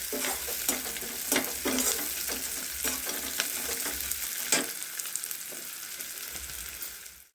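Onions frying in a pan for a tomato curry, with steady close sizzling broken by repeated scraping stirs of the spatula, no voices.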